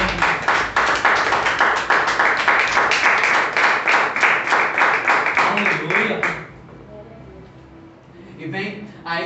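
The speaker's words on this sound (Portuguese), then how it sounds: "Que você venha dar uma salva de palmas a Deus agora." A church congregation claps in unison for God, rhythmic loud hand claps in a fast steady beat for about six seconds before stopping, followed by quieter sound and a voice.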